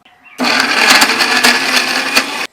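A mixer grinder whirs loudly, blending green chilli chutney ingredients with cumin, salt, curry leaves and garlic: an abrupt start, about two seconds of harsh, close motor roar with slight wobbles, then a sudden stop.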